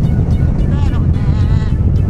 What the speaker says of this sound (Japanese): 風切り音入ってるやろね